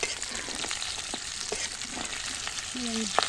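Chicken fries in oil until browned, giving a steady close sizzle with intermittent crackles and light stirring scrapes, plus a brief faint tonal sound near the end.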